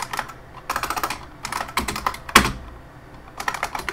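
Close computer keyboard typing during a Linux terminal session, irregular clusters of quick clicky keystrokes with short pauses between, including one sharper louder key press midway.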